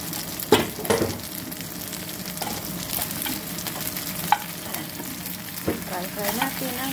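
Lamb fries in a pan with ginger, garlic and spring onion for a stew, giving a close, continuous sizzle with frequent clinks and scrapes of a utensil stirring, and no talking.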